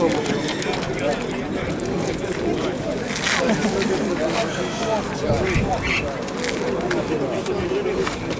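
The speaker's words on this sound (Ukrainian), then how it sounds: "А що оце? Голуб." Pigeons coo in a low, throaty voice among the poultry, rabbits and pigeons for sale at a busy outdoor market fair in Dnipro, heard under constant crowd chatter and people talking nearby.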